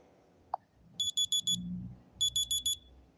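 A phone alarm beeps in two quick sets of four sharp, high-pitched electronic tones separated by a short pause, fairly quiet against a faint background rumble.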